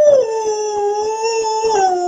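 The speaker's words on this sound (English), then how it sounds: "Can you howl for Abby?" A dog gives a single long, sustained howl up close, loud and tonal, wavering slightly in pitch over about two seconds.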